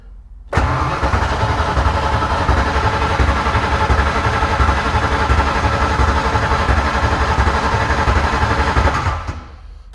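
A freshly installed car engine in neutral cranks during a crank test, the starter kicking in abruptly and grinding in a loud rapid rhythm for about nine seconds before cutting off, close up with no talk.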